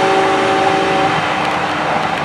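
A train rumbles past at close range with a steady broad roar and faint tonal squeal, loud and continuous.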